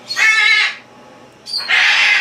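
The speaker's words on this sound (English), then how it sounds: "Look over my bird, she's really loud today" A pet bird squawks loudly and close in two harsh bursts with a short pause between them, alone with no talking.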